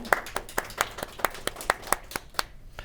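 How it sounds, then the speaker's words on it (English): Scattered audience applause after a water security panel discussion, a thin run of about a dozen distinct claps in a steady rhythm that fades out after a few seconds. "Can we get a round of applause for all of our panelists?"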